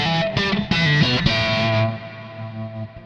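Distorted electric guitar tone played through a Kemper Profiler amp modeler, a few chords struck in quick succession and then left ringing and decaying, with no talking.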